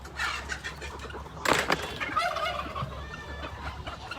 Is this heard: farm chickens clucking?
yes